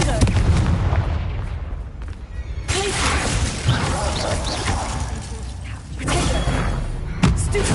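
In the video game Hogwarts Legacy, a Confringo blasting spell goes off in loud booming explosions: one big blast near the start, another heavy burst in the middle and a sharp crack near the end, with game noise rumbling between them.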